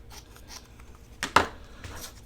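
Scissors trim the loose end of fabric while sewing corner tuck pockets, two quick close snips in a quiet room.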